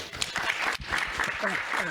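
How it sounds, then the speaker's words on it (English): Audience applause for the panelists at the close of a Stegner Center Green Bag lecture on the Great Salt Lake, a steady crowd clapping with voices talking over it. "Let's give them a round of applause"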